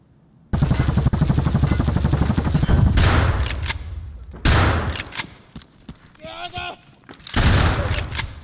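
Gunfire in Escape from Tarkov: a long, loud automatic burst rattles for several seconds, then more bursts and single cracks follow after short gaps, with a voice talking between shots.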